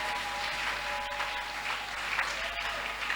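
A church congregation claps hands together in a dense, continuous wash of applause that holds steady for a few seconds, fairly loud and close, with a voice faintly underneath.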